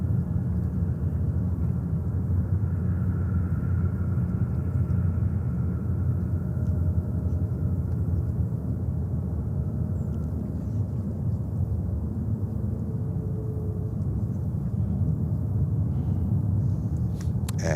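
JetBlue Airbus A220-300 taking off, a sustained deep jet roar and rumble heard from a distance, steady and broad with a faint tonal whine drifting through, no voices.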